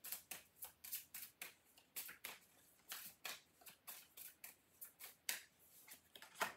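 Rune cards being shuffled and handled at close range, a steady series of crisp, soft flicks and slaps in quick rhythm, quiet and alone without voices.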